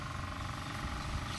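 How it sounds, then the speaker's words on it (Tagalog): A small electric motor inside a 5000-watt AVR under repair spins steadily at bench test, giving a low continuous hum with a faint whine, close and alone without talk. "ito malakas ang umikot itong motor"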